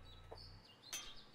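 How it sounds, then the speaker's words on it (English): A small bird chirping in the horror game Angels of Death, a few faint, brief tweets spaced apart over a quiet low hum. "Little bird!"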